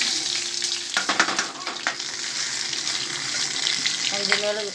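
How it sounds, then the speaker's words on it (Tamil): Cumin seeds and a few black peppercorns frying in oil for a Tamil tiffin kulambu, giving a steady close sizzle with scattered crackling pops and a brief stirring clatter, no voices. "அது நல்லா பொரிஞ்சிட்டோடனே"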